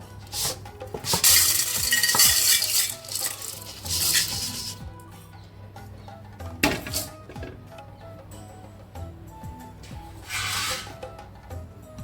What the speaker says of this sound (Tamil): செவக்கிற அளவு வறுத்துட்டு இப்படி எடுத்துக்கலாம்.